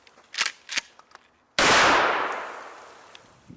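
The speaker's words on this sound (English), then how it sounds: "AR style 12 gauge shotgun." An AR-style 12 gauge shotgun fires a single loud, close blast on an outdoor range, with a long decaying echo after it; a few sharp clicks and handling sounds come just before the shot.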